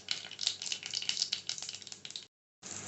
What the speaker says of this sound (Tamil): கடுகு உளுத்தம்பருப்பு நல்லா பொரிய ஆரம்பிச்சிருச்சு